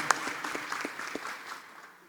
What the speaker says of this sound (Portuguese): Uma salva de palmas para o Luca